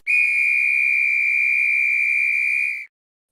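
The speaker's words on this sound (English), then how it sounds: "There's the whistle. That means it's game time." A single sharp whistle blast sounds to signal the start of a game, holding one steady shrill tone for nearly three seconds and then cutting off cleanly, with silence around it.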